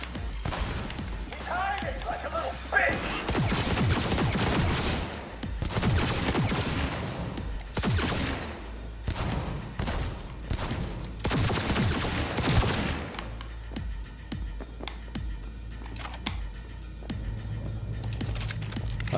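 A high-recoil gun fires in the video game Cyberpunk 2077, loud rapid bursts of shots and impacts packed over several seconds, then a quieter stretch with a voice talking.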